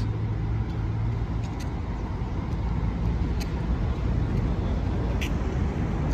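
A bus pulls out of São Paulo's Tietê bus terminal with a steady engine rumble amid busy traffic noise, heard from nearby with a few faint high clicks.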